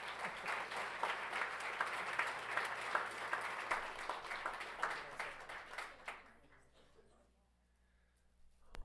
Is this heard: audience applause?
yes